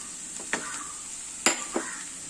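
Masala spice powders for a beef curry sautéing in a pan, a steady soft sizzle with a few louder scraping stirs of the spoon, close by and alone.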